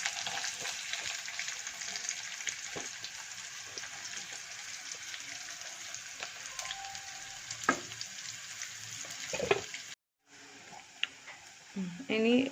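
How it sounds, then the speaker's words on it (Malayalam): Chopped onions fry in oil with mustard seeds, a faint, steady hiss of sizzling broken by a few utensil clinks and a brief dropout near the end. "ഇനി അതിലേക്ക് അരിഞ്ഞ് വെച്ച സവാള ഇടുകയാണ്."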